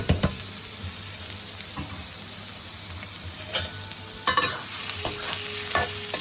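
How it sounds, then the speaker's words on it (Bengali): Raw onions hit hot oil in a pan, giving a steady sizzling hiss with occasional clinks and stirring scrapes, close and moderately loud, no voices. "এখন আমি কাঁচা পেঁয়াজগুলো দিয়ে দেবো।"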